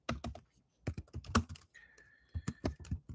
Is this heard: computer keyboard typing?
yes